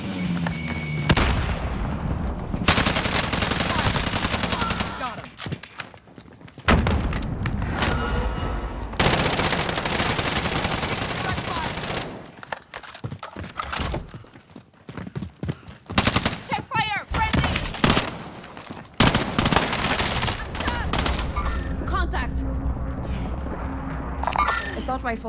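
Call of Duty: Modern Warfare gunfire rattles in long automatic bursts mixed with booming blasts, recurring through twenty-five seconds of combat while voices talk over the action.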